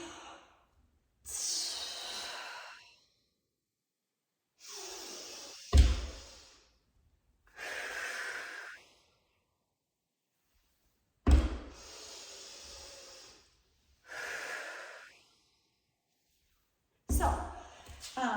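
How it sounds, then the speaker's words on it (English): Deep breaths while bracing for a deadlift: several loud, airy inhales and exhales in a slow repeating rhythm, separated by silence, with a few sharp knocks as the weight touches down. "you're gonna take a deep breath in"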